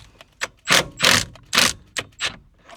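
A ratchet wrench with a 19 mm socket loosening the steering wheel bolt on a Nissan Z, giving a series of loud, close ratcheting bursts of uneven length, several long clicking strokes separated by short pauses, with no talk.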